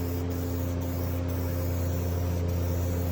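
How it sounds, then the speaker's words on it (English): An aerosol spray paint can sprays a car body panel during amateur bodywork, giving a steady, faint, continuous hiss over a constant low electrical hum with no pauses. "It's just a spray bomb"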